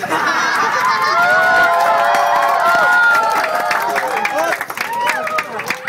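A crowd at a Valentine's Day rap battle roars with shouting, cheering and some clapping, a loud, dense wall of voices that swells and then thins slightly toward the end.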